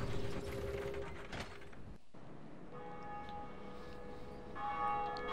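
The First Bell of Awakening in the video game Dark Souls is rung, with a clanking mechanism followed by sustained bell tones that ring on steadily and then swell again near the end.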